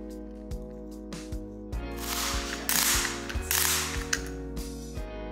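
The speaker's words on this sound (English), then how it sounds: "Once it's engaged, it'll sound and feel like a gas cap. Give it three rounds of these multiple clicks." A torque tool on a Yakima RidgeLine roof rack tower bolt, giving rapid ratcheting clicks in bursts like a gas cap, close up over a steady low mechanical hum.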